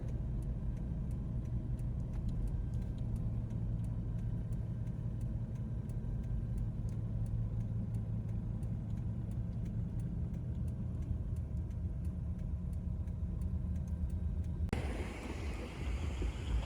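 A car on the Trans-Sumatra highway pulls into a rest area, its engine and road noise forming a steady, close low rumble that ends with a sudden shift in the sound near the finish.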